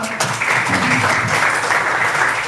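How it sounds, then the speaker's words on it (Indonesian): An audience at a teachers' ambassador competition applauds a student named Kayla, a steady, fairly loud spread of many hands clapping through the whole stretch, with a faint murmur of voices low beneath it. "Berikan tepuk tangan untuk Kayla."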